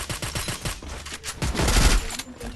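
A pump shotgun firing in the video game Free Fire: a quick series of punchy gunshots in a fast rhythm, then a denser burst of heavy blasts, loud and close.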